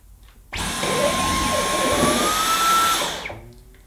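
Vacuum cleaner with a torque head on its middle setting running over new carpet, a loud close whining roar with a rising motor tone that starts abruptly, runs about three seconds, then cuts out.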